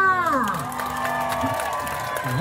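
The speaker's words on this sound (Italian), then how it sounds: "Un applauso!" A live crowd at a 2019 outdoor show in Cuneo cheers and shouts in a dense, sustained roar mixed with applause, with individual whoops and voices rising out of the wash throughout.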